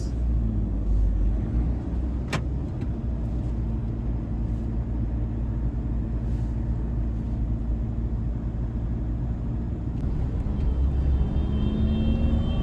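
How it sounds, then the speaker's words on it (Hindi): A Force Gurkha SUV engine runs during a test drive, giving a loud, steady, close rumble and whir that holds constant throughout with no speech over it. "अब गाड़ी को पहले घर में डालिए जी, ये देखो छोटी मोटी वो ऐसी आवाज़ है"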